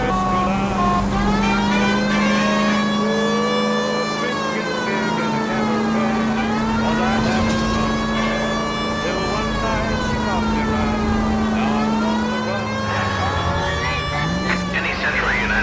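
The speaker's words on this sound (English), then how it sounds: "The siren might keep people out of the way." A police car siren wails in the L.A. Noire video game while the car drives, its rising and falling pitch steady over a low engine drone and game sound for the whole stretch.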